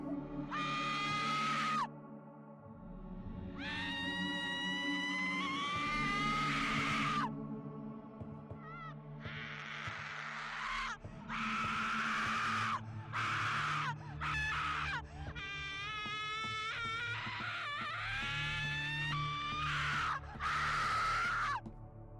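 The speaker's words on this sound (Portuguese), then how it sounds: "então começam os gritos de desespero muito altos que fazem o jogador correr" Desperate, drawn-out screams and wails of children from the horror video game Sad Satan, coming in long repeated bursts with brief gaps between, loud and strained, over a low droning background.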